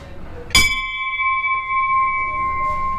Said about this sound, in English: We need to ring that bell.